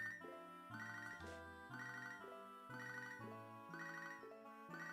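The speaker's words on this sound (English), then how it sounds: "Oh, should I answer Anthony's phone call?" Pokemon HeartGold phone ringtone on the handheld game, a chiptune jingle repeating in a steady looped rhythm of chirpy electronic tones, clear and alone with no talk.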